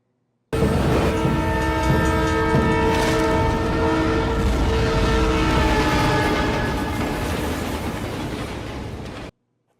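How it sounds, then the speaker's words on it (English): A train rushes past on a movie-scene display piece, a loud steady roar with a sustained multi-tone horn blaring over it throughout before cutting off abruptly. "It's from the 1st movie when they dodge the train"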